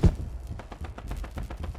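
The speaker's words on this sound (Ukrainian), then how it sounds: "Стріляють, стріляють, я чую." Rapid bursts of gunfire in the game Level Zero: Extraction rattle in quick succession at a moderate distance, a steady stream of sharp pops with no pause.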